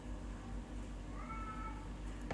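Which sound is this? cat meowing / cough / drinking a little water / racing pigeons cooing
cat meowing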